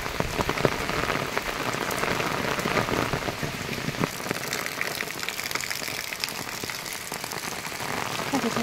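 Heavy rain pours steadily onto a pond, a dense, continuous hiss of drops striking the water with scattered louder splats, steady and close throughout.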